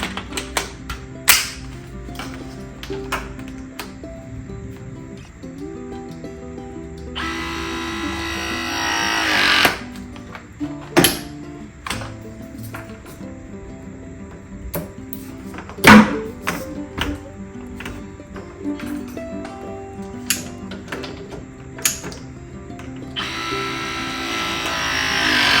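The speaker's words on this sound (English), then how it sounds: "We're gonna use Pro Press." ProPress tool crimping copper pipe fittings on a water heater install, several separate motorized whirring presses lasting a couple of seconds each, mixed with sharp clicks and thunks, close and fairly loud, without talk.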